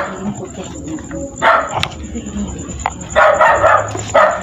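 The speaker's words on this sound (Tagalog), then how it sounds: "may aso." A dog gives a few short barks in an old public cemetery, scattered among people talking nearby over low background noise.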